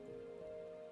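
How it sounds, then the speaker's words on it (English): Rain falls in the Final Fantasy XIV video game, a faint, steady soft hiss with a quiet sustained tonal hum underneath, brief and without speech. "It's raining."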